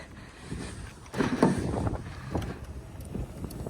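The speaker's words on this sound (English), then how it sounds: "if it's windy and noisy, I do apologize, because it's windy out today." Gusts of wind buffet the microphone outdoors, irregular low thumps and rumbles with no talking.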